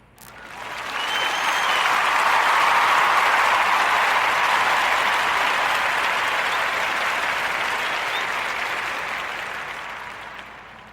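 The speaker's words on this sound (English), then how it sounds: "Join me into giving our sister Kim Price a warm Narrative Podcast round of applause" A round of applause swells quickly and holds steady, a dense wash of many hands clapping, then gradually fades toward the end.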